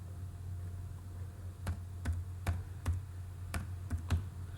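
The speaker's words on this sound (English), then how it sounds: "I'm pressing F5 on the keyboard to execute the code." Keys tapped on a computer keyboard, about eight sparse, faint clicks spaced irregularly over a low background hum.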